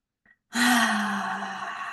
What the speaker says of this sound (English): Taking a couple of deep breaths.